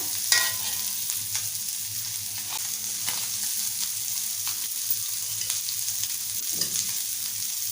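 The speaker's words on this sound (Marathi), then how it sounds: "मांडेली फ्राय व्हायला जास्त वेळ लागत नाही पटकन होतात फ्राय" Mandeli fish shallow-frying in oil gives a steady, close crackling sizzle that runs without a break, with a sharp pop near the start and no talking.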